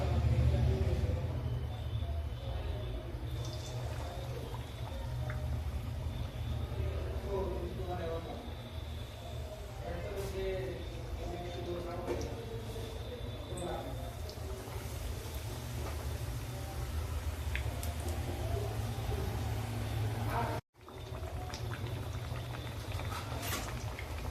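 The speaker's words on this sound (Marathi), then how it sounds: "आता आपण हे तळून घेऊ आता मी यामध्ये वडे सोडते" Potato batata vadas deep-fry in a pan of hot oil, a continuous bubbling hiss and crackle throughout while someone talks over it.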